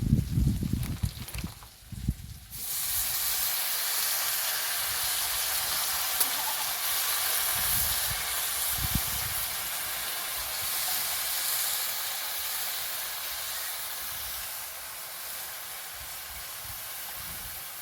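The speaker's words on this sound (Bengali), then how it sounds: "আমি দিয়ে দেবো কেটে রাখা মেথি শাকগুলো।" Chopped fenugreek leaves hitting a hot pan for a carrot and fenugreek curry, a few clanks and rustles followed by a loud, steady sizzling hiss that carries on evenly up close.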